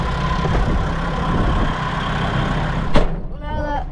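A tractor engine idles steadily during square hay baling, a loud continuous low rumble with a short sharp hiss or clank near the end.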